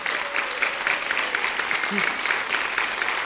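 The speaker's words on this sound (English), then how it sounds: "A round of applause for Dr. Robin Wall Kimmerer." A conference audience at a community conversation with Dr. Robin Wall Kimmerer breaks into steady applause, an even wash of clapping that sounds somewhat distant and continuous.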